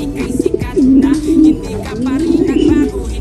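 Pigeons in a loft coo close by in low, throaty rolling phrases that repeat in uneven bursts, with faint wing and cage noises between.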